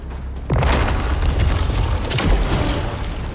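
Missiles explode in the sci-fi game SAROS: a heavy blast hits, a long rumbling roar follows, and a second boom lands shortly after. Both are loud and close.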